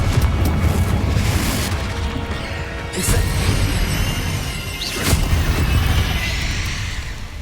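Booming spell blasts go off in the Hogwarts Legacy video game, one loud close burst near three seconds and another near five over a constant rumbling game backdrop.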